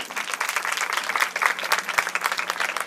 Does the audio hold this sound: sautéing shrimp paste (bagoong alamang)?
no